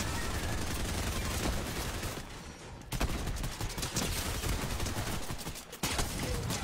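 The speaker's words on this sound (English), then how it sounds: "You got the damn monster turret." Rapid monster turret gunfire in Fortnite, a dense, continuous burst of shots at steady loudness with a brief dip midway, while players talk over it.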